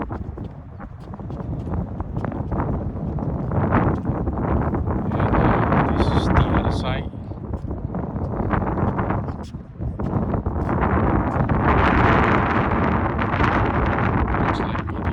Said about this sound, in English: Today is a bit windy.